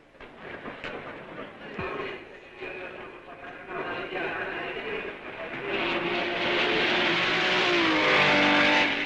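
1955 racing cars at the Belgian Grand Prix pass with engine noise that starts moderate and steadily swells louder, ending in a sustained rising drone.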